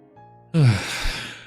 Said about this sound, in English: We haven't done a sniff test in a while.